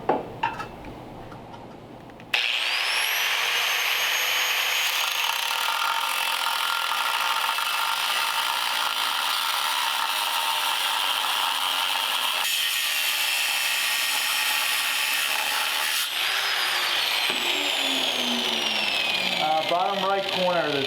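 A power tool cuts into the edges of an Eastwood Tri-Flow radiator, giving a loud, continuous high-pitched grinding whine that holds steady for most of the time and ends with a few rising scrapes.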